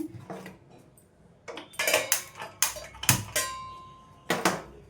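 Metal pots and utensils clank on a kitchen stovetop as a vessel is set down for melting sugar, several sharp ringing knocks spaced irregularly, close and fairly loud with no talking.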